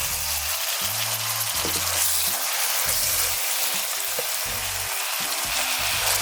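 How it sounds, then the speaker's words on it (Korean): Bok choy and mixed vegetables sizzle and fry steadily in a hot pan or wok, with a few stirring scrapes through the continuous crackle. "이렇게 청경채와 야채들이 숨이 죽으면 여기에 치킨 스톡 녹인물 50ml를 넣어줍니다"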